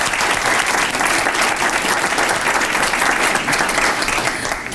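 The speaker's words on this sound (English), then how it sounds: "So a big round of applause for all our students here today." An audience at a student-of-the-month breakfast claps for the students: loud, dense, sustained applause from many hands, steady throughout and easing slightly at the end, with no voices over it.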